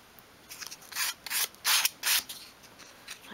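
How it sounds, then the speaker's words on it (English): Rough hand sanding of small dolls house kitchen pieces to remove hanging bits, heard as a series of short, close, dry rasping strokes in bursts of irregular rhythm. "just to sand and get rid of all those bits that are hanging off"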